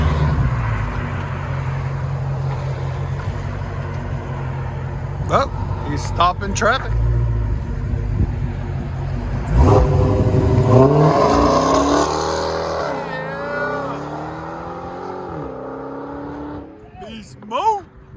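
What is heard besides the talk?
Dodge Challenger SRT Hellcat 6.2L V8 launching, loud exhaust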